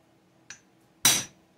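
A hammer or punch strikes the far side of a part, opposite its key slot, to knock it loose beside a magnet and coil. A light metallic tick is followed half a second later by a louder, sharper ringing tap, both close and isolated.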